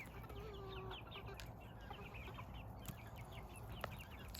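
Chickens in a farmyard cluck and chatter softly in repeated short calls, with one longer call near the start, over a quiet, steady outdoor background.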